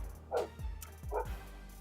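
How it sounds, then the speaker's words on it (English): A dog lets out two short, muffled barks about a second apart, faint and a little distant against a low background hum, with no talking. "That's the dog."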